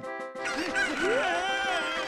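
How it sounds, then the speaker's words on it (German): Chickens in the video game Zelda: Ocarina of Time, played in a chicken-finding minigame, let out a layered flurry of clucks and squawks, several birds calling at once with rising and falling cries and no speech. "Hier sind die Superhühner. Finde sie."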